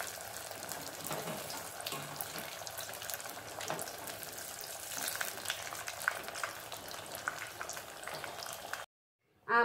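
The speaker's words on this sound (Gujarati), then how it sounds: "તેલ મારું થઈ ગયું છે, આપણે હવે એને ડીપ ફ્રાય કરવાના છે" Aloo paneer bird nests deep frying in hot oil, a steady bubbling sizzle with crackles and pops that runs quietly for most of the clip, then stops abruptly near the end.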